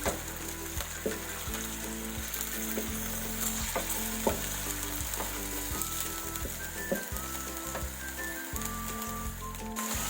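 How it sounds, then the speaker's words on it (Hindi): Chicken sizzles and crackles steadily in a hot pan, with occasional stirring scrapes and clicks, close and continuous with no voices. "सबसे पहले हम इसे अच्छी तरह फ्राई कर लेंगे।"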